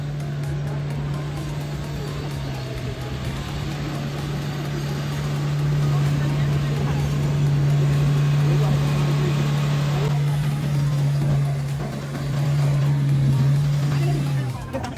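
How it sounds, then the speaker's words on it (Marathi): An off-road 4x4 engine idles and revs at a steady drone during a drifting session, with a constant tonal hum that swells in the middle. People talk over it at times. "एक गाडी तर झालेली आता ड्रिफ्टिंग. दुसरी गाडी चालू आहे."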